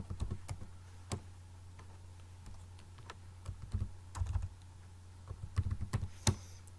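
Quiet computer keyboard typing a search query, in scattered bursts of soft key clicks over a steady low hum, with no talking.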